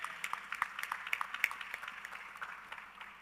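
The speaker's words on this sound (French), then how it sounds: "On peut les applaudir encore une fois" Light, sparse clapping from a small conference audience at an AIDS conference session, fairly faint and thinning out toward the end.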